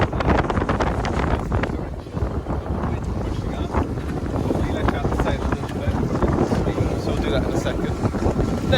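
Strong southerly wind roars over a reefed sailboat with no foresail, a constant gusty rush buffeting the microphone with water splashing against the hull, and a voice talking over it.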